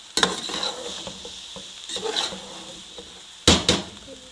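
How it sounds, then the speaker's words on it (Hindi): Rice frying on high flame with vegetables, spices and soy sauce, a steady close sizzle broken by spatula scrapes and clanks against the pan, with a loud clatter near the end. "अब हम तेज़ आंच पे चावल अच्छे से फ्राई करेंगे वेजिटेबल्स और सारे मसालों के साथ"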